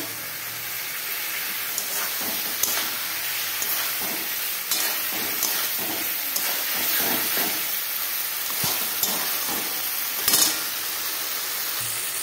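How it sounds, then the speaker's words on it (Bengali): Fried prawns are sautéed in a thick spice masala for prawn malai curry. A loud, close, continuous sizzle is broken by repeated scraping strokes of a stirring spoon, and no one speaks. "এবার একটু ভালো করে কষিয়ে নেব।"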